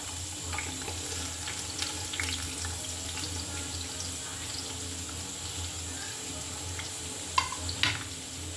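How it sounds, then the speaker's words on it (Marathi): Onion fries in hot oil with a continuous soft sizzle and occasional light scraping, fairly faint, no voices over it. "मोस्टली चांगला कुक होईल कांदा तोपर्यंत त्याला ऑइलमध्ये फ्राय करून घ्यायचं"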